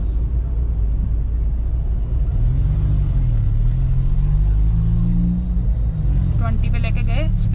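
A Mahindra Scorpio engine rumbles low and steady while accelerating in first gear, a rising hum building over the continuous road noise toward the end.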